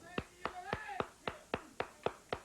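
Slow, deliberate hand claps, eight of them spaced about a third of a second apart, close and crisp, with a voice talking between them on a 1987 wrestling broadcast.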